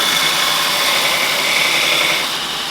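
A Robert Sorby Pro Edge sharpening machine runs continuously while sharpening a woodturning tool, giving off a steady, close, high-pitched grinding whir with no pauses.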